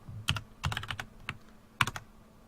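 Short bursts of keystrokes on a computer keyboard, clicking in quick clusters with pauses between them, close and fairly quiet with no voices.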